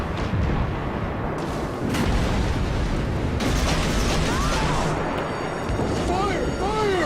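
Torpedo hits and explosions on a warship in the naval combat video game World of Warships, heavy booming blasts over constant battle rumble, with a person talking over the game sounds.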